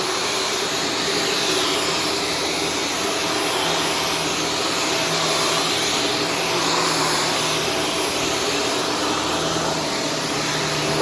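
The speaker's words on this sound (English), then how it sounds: "Better performance than the average vacuum" A Shark Stratos vacuum cleaner runs loud and steady at close range, a continuous broadband whine and rush with no breaks and no voices.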